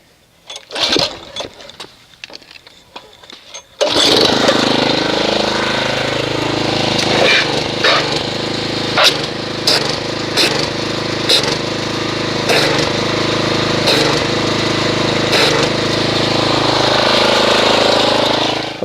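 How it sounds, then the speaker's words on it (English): Pressure washer spraying to agitate Griot's super concentrated car wash soap, a few clattering handling sounds followed by a loud, steady motor drone with a continuous hiss and intermittent sharper bursts, close and sustained. "Let me go ahead and agitate this with a pressure washer."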